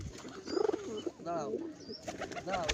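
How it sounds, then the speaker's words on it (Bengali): Domestic pigeons of many breeds on a house rooftop give soft, repeated coos close by, with a few higher calls and faint voices in the background. "অনেক জাতের কবুতর এখানে আছে।"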